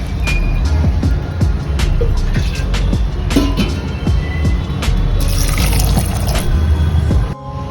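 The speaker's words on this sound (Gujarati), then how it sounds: "આપણે એમાં 2 કપ જેટલું પાણી ઉમેરીશું।" About two cups of water are poured into a pressure cooker holding soaked kidney beans (rajma), a continuous close splashing and gurgling stream that ends abruptly near the end.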